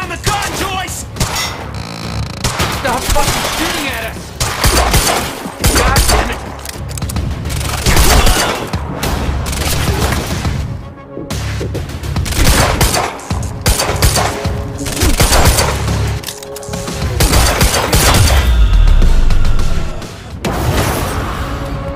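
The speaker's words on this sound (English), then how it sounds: "Opening fire!" Heavy gunfire in the video game Quantum Break, with dense bursts of automatic fire, booms and thuds sounding nearly continuously and loudly, punctuated by brief pauses, amid a chaotic battle scene with shouting voices mixed in.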